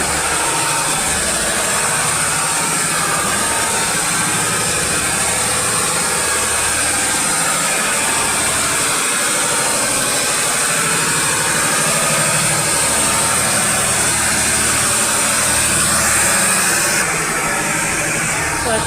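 A diesel engine runs in the engine room of the Sampad passenger vessel, a loud, steady low rumble and vibration droning throughout, with a voice talking intermittently over it.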